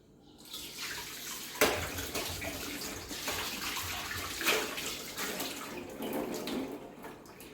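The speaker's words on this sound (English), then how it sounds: "We clean our vessels here" Steady broadband rush of tap water running as vessels are washed at a freshwater spot, continuous and fairly loud throughout with a few louder splashes, no talking.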